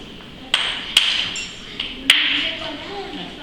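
Stone block knapped into a hand axe: several sharp, ringing strikes at irregular intervals, close and fairly loud, with a voice speaking softly in between.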